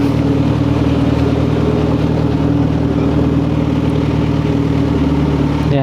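A Kawasaki ZH2 motorcycle engine runs steadily at idle nearby, a loud, even rumble with a constant low droning tone that holds without revving throughout.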